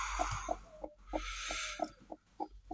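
Hens and a duck in a poultry pen cluck in a quick, uneven series of short, close calls, with a burst of rustling noise in the middle.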